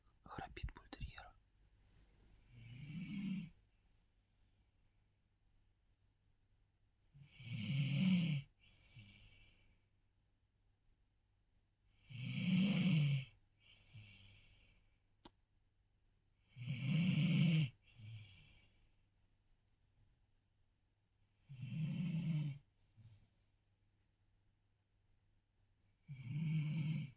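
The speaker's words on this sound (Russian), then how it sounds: "Сейчас покажу, как храпит бультерьер." A bull terrier dog snoring in steady sleep, each deep rattling inhale-and-exhale repeating every four to five seconds, close and fairly quiet with near silence between breaths.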